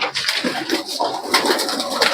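Pigeons coo at a West Bengal pigeon-racing tournament, several birds calling in steady overlapping bursts close by against a busy outdoor background.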